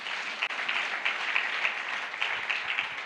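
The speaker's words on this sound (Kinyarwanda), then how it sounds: "ukomere Imana yacu amashyi" Steady audience applause from a church gathering, a dense crowd of clapping hands sustained without pause at an even level throughout.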